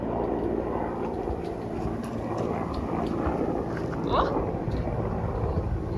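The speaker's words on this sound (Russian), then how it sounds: "И вертолет летит." A helicopter flying overhead in the countryside near Ukhta, Komi Republic, during an August outing, heard as a steady rotor drone under wind buffeting with a voice exclaiming briefly.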